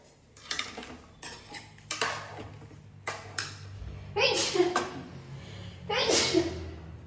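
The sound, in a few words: sneeze in kitchen while cooking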